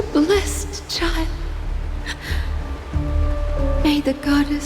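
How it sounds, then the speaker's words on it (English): Rainfall in the Honkai: Star Rail video game keeps up a continuous wash of patter under a speaking voice, never pausing between the lines. "This is the sound of rain."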